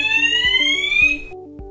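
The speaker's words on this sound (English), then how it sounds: "the alarm resounds for the occupant to deal with as appropriate" A C-TEC Hush Pro fire alarm in a flat sounds a loud, close electronic tone that rises and warbles, with rapid repeating pulses and no voices.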